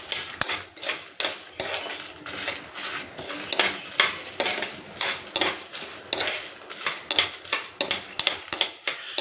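Ingredients for ginger chutney being dry-roasted in a pan, with a spoon scraping and stirring in a quick repeated rhythm over a faint sizzle, close with no voices.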